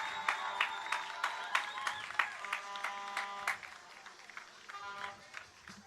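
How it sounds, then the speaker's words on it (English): An audience applauds at an outdoor PNM political public meeting in La Horquetta, with sharp, uneven claps and cheers rising over lingering musical tones before settling down. "Let's give young Miss Morales a lusty round of applause."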